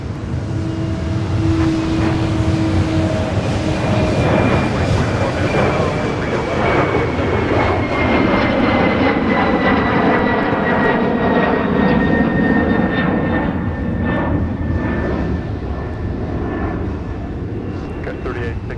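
Airliner taking off from runway 30 left at Minneapolis–St. Paul airport, a loud, continuous jet engine roar with a sweeping whine that holds steady for the whole stretch, then fades a little near the end.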